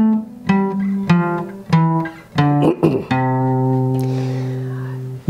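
A major scale played downward on guitar, single plucked notes in a steady sequence ending on a low note left to ring out, solo and close with no voices.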